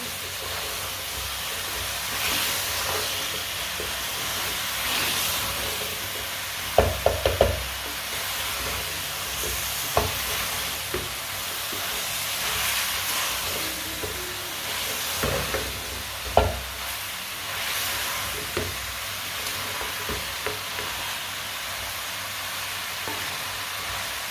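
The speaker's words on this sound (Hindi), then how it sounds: "आलूओं को भी ऐसे ही चम्मच चलाते हुए ना पका लेना।" Half a kilo of cut, washed potatoes fry in a pan while a spoon stirs them, giving a steady sizzle with scraping knocks and clinks at intervals, close and without talk.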